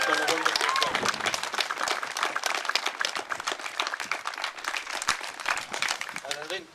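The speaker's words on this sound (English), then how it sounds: "we should have a round of applause for the organisers of this rally, to Jeannie, James, Barbara, and all these g" A crowd at a Black Lives Matter rally in Chesterfield applauds, a dense patter of clapping that runs steadily throughout, while a voice talks over it at the start and again at the end.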